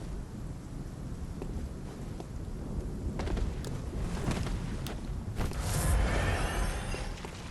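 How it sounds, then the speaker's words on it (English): A thunderstorm rages over the Fishing Hamlet in Bloodborne, with dense, heavy rain and a low rumble of thunder. A sharper crackling burst swells near the end. "I do love the thunderstorm here."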